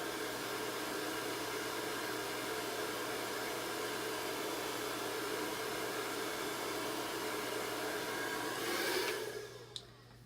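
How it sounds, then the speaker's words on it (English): Handheld hair dryer blowing on craft paper, a loud, steady whooshing roar that runs nearly the whole time before cutting off near the end. "We're going to hit it with a dryer."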